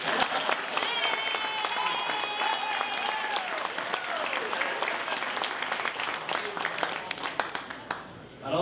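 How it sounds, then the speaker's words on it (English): Wedding reception guests break into sustained applause, dense clapping from a crowd mixed with cheers and a few voices calling out, lasting several seconds before tapering off. "You guys can clap."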